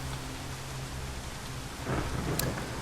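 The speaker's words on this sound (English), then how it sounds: "Periodic thunderclaps roar like distant cannon fire, and the flash of lightning stabs at your eyes." Video game thunderstorm on a dock: continuous heavy rain hiss with a rumble of thunder rising near the end and a sharp crack, loud and unbroken, no voices.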